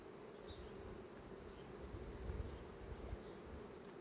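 Honey bees swarm around a hive frame during a check on queen cells, giving off a steady, close buzzing drone that stays even throughout.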